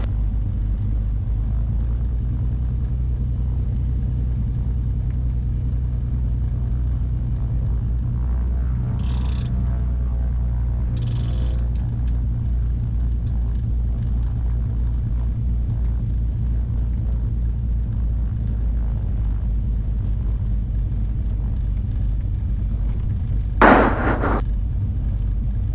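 Twin-engine Cessna taking off from runway 27, a loud, steady low engine drone filling the cabin throughout, with a few brief brighter bursts on top near the end.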